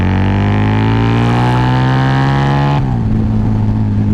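Harley-Davidson V-Rod Muscle motorcycle engine running loud and close, a smooth steady idle with strong harmonic hum that drops suddenly in pitch partway through and then settles into a lower, rougher idle.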